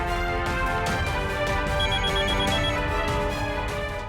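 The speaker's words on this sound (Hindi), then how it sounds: "उठा लो ना फोन।" A telephone rings continuously and fairly loudly in an indoor TV drama scene, its steady electronic ringtone filling the moment with no talking over it.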